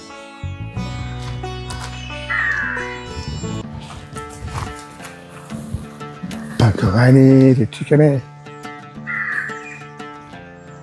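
A crow gives a couple of harsh caws, standing out among a person's speech and other household sounds.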